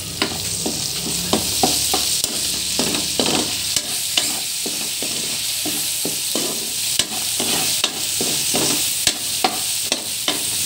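Shrimp paste sautéing in a pan while squash is being added for a Filipino squash, bitter melon and long bean stir-fry: steady close sizzling under repeated scraping and stirring clatters, no talk.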